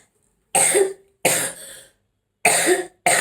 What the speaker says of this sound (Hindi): खांसी हो रही है मुझे